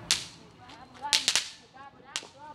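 Small fireworks pop in several sharp, separate cracks at a family Fourth of July gathering with a barbecue. One snap comes early, a tight cluster follows in the middle, and a last crack lands near the end, with faint voices between them.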